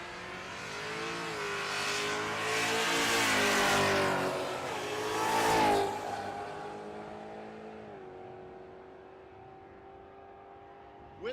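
A bracket drag racing car at Tulsa Raceway Park roars loudly down the strip, its engine climbing through gears before fading as it pulls away.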